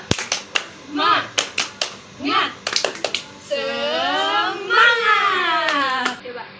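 Students in a microteaching classroom do a rhythmic spirit clap: sharp, close hand claps in quick patterned bursts alternate with children chanting together in unison.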